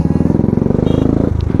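Loud, heavily modified exhaust on a Royal Enfield Classic 350 BS6 motorcycle, held at steady throttle with a fast, even thump, a close and continuous rumble throughout.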